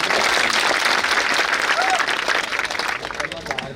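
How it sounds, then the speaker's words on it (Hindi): Crowd clapping at a cricket tournament function in a village, a dense continuous burst of applause with some voices mixed in, loud and sustained before thinning near the end. "ताली बजाओ यार।"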